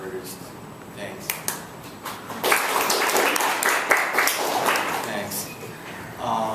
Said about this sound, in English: Can you give me a round of applause first?